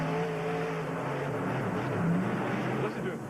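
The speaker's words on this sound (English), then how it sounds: "Listen to him work that throttle and the power of that T-Max engine" A Ford monster truck with a T-Max engine roars continuously at a freestyle show in Houston, a constant loud throttled rumble echoing through the arena with crowd noise beneath.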